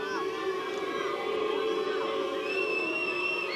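Croatian supporters at a women's football qualifier against Wales boo and whistle as a penalty is about to be taken, a steady crowd din with piercing whistles over it and a commentator's voice running underneath.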